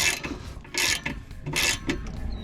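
A bolt being snugged down on a steering stabilizer bracket during a BDS dual stabilizer install on a 2019–2024 Cummins truck, giving bursts of close ratcheting and rasping mechanical clicks in short pulses.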